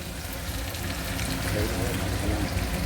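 Grated raw mango pulp fries in a pan for mango pulihora, giving a steady, dense sizzle throughout with no pause and no talk over it.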